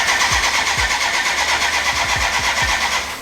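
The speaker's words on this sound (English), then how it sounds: "I'm going to crank it up a little bit and see if we have fuel and if our fuel pump works" A BMW K100 motorcycle engine cranking over on the starter in a workshop during a cafe racer build, with several separate low turning pulses under a steady broadband hiss, not catching, at close range.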